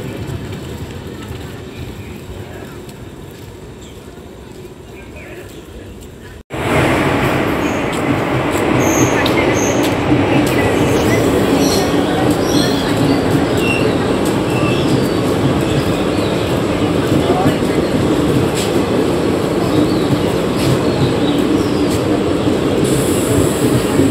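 A Kamrup Express passenger train runs at speed, a loud continuous roar of wheels and carriages with rattling and clicking, heard from inside after a quieter opening few seconds that abruptly jumps in volume.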